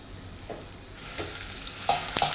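Hot oil poured over pickle spice masala for Gujarati amla pickle, a soft background hiss rising into sharp, bright sizzling bursts near the end, close and fairly loud.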